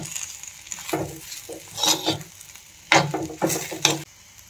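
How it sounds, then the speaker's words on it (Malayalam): Green chilli pickle with asafoetida being stirred in a pan: several bursts of spatula scraping and sizzling come in clusters, close and moderately loud, with quieter pauses between. "അതിനുശേഷം നല്ലോണം ഇളക്കി കൊടുക്കണം."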